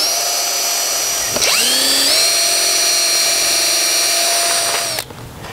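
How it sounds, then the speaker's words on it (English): A power drill bores shallow pilot holes into pallet wood, a loud close whine that spins up, holds steady for several seconds, then stops abruptly, with no talking. "When you're making pilot holes, you don't need to go all the way through the wood."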